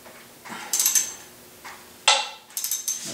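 A ratchet wrench loosens valve cover bolts on a Mercedes 560SL M117 V8 engine, several short bursts of quick clicking ratchet strokes, close and fairly quiet, separated by pauses.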